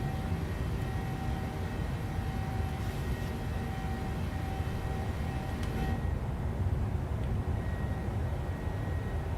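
PMDG 737 jet engines in Microsoft Flight Simulator make a steady, low, broadband cockpit drone with a faint tonal whine on top. The sound is even and continuous and fairly quiet throughout.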